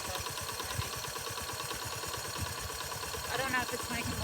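An engine fresh from a piston replacement runs steadily with a rapid, even pulsing beat at idle-like speed, close and continuous, with a brief higher whine near the end.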